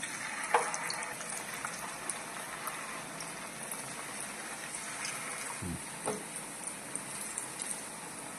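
Hot oil sizzling and crackling in a heated pan while making masala bonda: a steady hiss with scattered pops and a few louder spits, close and fairly quiet.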